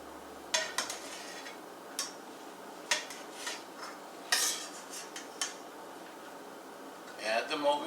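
Avocados sliced with a knife in a home kitchen: scattered light taps and clicks of the blade against a cutting board, sparse and close, separated by quiet gaps, ending with a short clatter.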